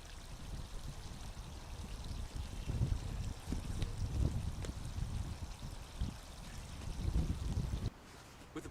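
Water pours and trickles into a wildlife pond liner as it fills the shelves, a soft, continuous splashing with louder surges partway through before it drops off near the end.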